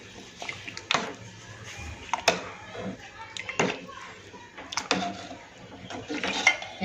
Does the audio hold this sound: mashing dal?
yes